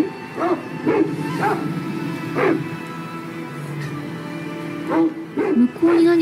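A voice imitates a dog barking with short, high, yappy "wan" sounds, a few spaced calls followed by a quicker cluster, over faint background noise.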